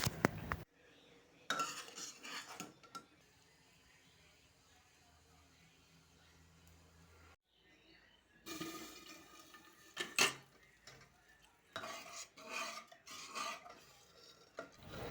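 A ladle scrapes and clinks against a pot of cooking dal in bursts, with metallic stirring strokes separated by quieter pauses and a faint watery slosh.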